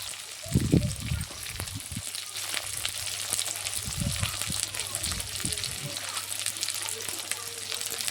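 Onions, green chilies and curry leaves sauté in hot oil for a spicy pepper chicken gravy, giving a steady close sizzle with a few louder bursts of stirring and frying near the start and middle.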